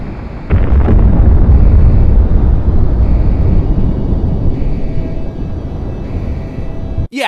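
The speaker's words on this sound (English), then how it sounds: "hearing the immense explosions louder than anything else" Immense explosions in the video game Project Wingman, a heavy booming roar that erupts after a brief lead-in and rumbles continuously with faint aircraft-like tones layered in, ending abruptly.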